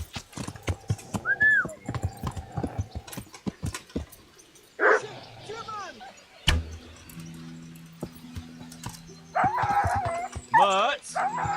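A dog in the medieval game Kingdom Come: Deliverance barks and yips in short bursts, mixed with clip-clopping hooves, shouting voices and other game sounds.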